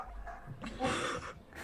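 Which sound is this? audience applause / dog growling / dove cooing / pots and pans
dog growling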